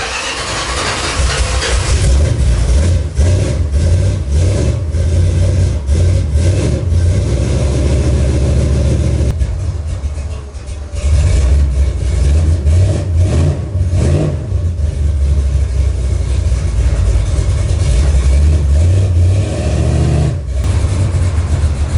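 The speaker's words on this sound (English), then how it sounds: "Car started right up." A 1969 Plymouth Road Runner V8, a low 11-second street car, cranks briefly and fires up, then settles into a loud, lumpy idle with repeated throttle blips and revs rising and falling, close by, with no talking.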